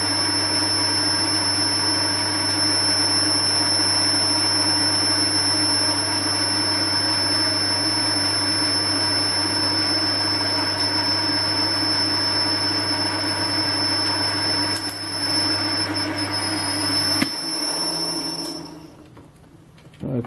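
A carbide boring bar on a lathe takes a fine-feed cut in stainless steel, giving a steady, loud machining hum with a sustained high whine. It holds evenly for about seventeen seconds, then drops away as the machine stops.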